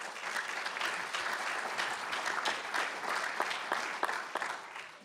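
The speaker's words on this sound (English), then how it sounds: "How about a round of applause for these guys?" Audience applause at a high school athletic hall of fame induction ceremony, a steady, dense wash of many hands clapping throughout, fairly distant and even in level.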